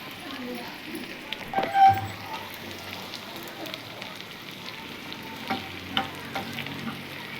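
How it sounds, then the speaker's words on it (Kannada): Onion, curry leaves, dried chillies and asafoetida sizzle faintly in oil as a tempering for sambar. Occasional stirring clicks and a couple of louder knocks rise over the soft frying hiss. "ಸಾಂಬಾರಿಗೆ ಒಗ್ಗರಣೆ ಹಾಕ್ತಾ ಇದ್ದೀನಿ"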